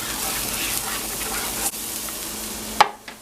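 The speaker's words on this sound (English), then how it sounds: "now I'll just give that a little stir in there" Chicken adobo lumpia filling sizzles in a pan while being stirred, a close hissing fry with scraping spoon strokes, then a sharp clank and the sizzle dropping away near the end.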